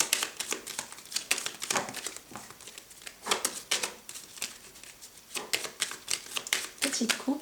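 A deck of playing cards is shuffled and cut close up, giving a steady run of quick riffling flutters and soft slaps with short pauses, fairly quiet.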